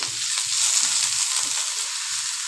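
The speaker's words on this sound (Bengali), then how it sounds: "পটেটো আর পেঁয়াজ ভালো করে কুক করে নেব।" Potatoes and thinly sliced onions fry in a pan for a Spanish omelette, with a close, constant sizzle and faint stirring bumps underneath. No one speaks.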